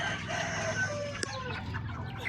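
Chickens at feeding time, a mix of White Leghorn, Rhode Island Red, Barred Rock and upgraded native birds, cluck steadily and close together, with a brief sharp squawk cutting through the busy flock chatter.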